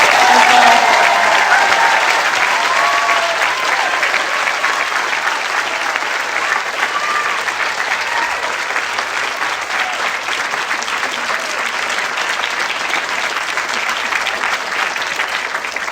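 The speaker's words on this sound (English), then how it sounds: "let's give a warm round of applause to these new faculty and staff" Audience applause for new faculty and staff at a 2024 school convocation, a steady, dense round of clapping that holds loud and even from start to finish with no voices over it.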